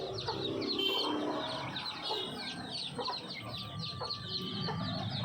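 A hen on a farm clucks softly to call her chicks to food, while the chicks keep up rapid, high peeping all around. The sounds are faint and continuous at moderate distance.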